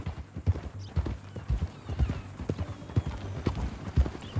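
Horse hooves clip-clop in a steady walking rhythm in the Western video game Red Dead Redemption 2, close and clear with a low rumble beneath, and no talk over the hoofbeats.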